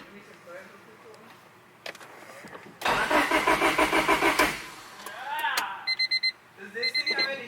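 A turbocharged Honda Civic engine cranks for about a second and a half with fast, even starter pulses and never fires. Electronic beeping follows, with voices nearby.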